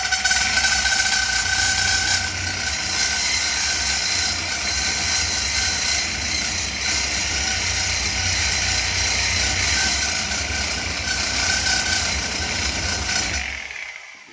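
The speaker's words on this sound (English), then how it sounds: "I'm gonna make some noise and cut this last plate off with my dull sawzall blade" A reciprocating saw with a dull blade cuts through a steel plate on a 1978 Z28 Camaro bracket, a loud, steady rasping grind running continuously for about thirteen seconds before stopping abruptly.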